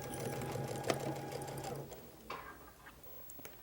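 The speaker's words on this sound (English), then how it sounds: "we'll sew onto an anchor cloth" A sewing machine stitches a dahlia quilt piece onto an anchor cloth, humming steadily and close for a couple of seconds before stopping, followed by faint handling noises.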